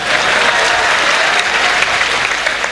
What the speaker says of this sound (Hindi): जोरदार तालियां मेरे लिए नहीं, अबू भाई के लिए बजा दो यार